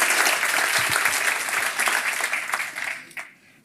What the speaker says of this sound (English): Can I have a big applause for Ineke?